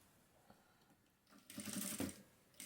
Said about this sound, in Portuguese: agora eu vou passar uma costurinha de segurança em cima dessa peça aqui antes de colocar a próxima